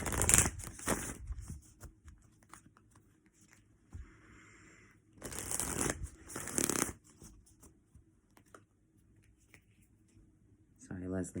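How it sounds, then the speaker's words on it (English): Oracle deck cards shuffled by hand in several quick riffling bursts, separated by quieter stretches with a soft voice talking in the background. "Sorry, Leslie, I'm just trying to tune into your energy a little bit so I could pull up a card for you"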